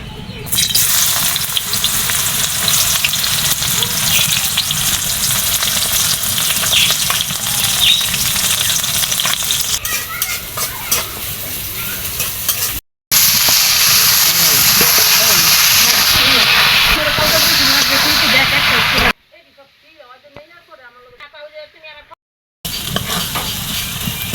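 Cabbage and spice paste frying in hot oil, giving a loud, continuous sizzle and hiss with stirring scrapes that cuts out briefly and returns.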